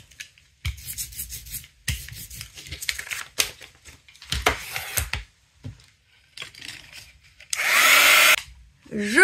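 A heat tool or dryer blowing on a freshly painted journal page, arriving after scattered scraping and rubbing sounds as a loud, steady hiss lasting about a second and a half, followed by a short rising whine.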